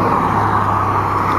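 Cars start up and move off in the rain, giving a steady, close engine rumble and roadway hiss that holds at a constant level with no break.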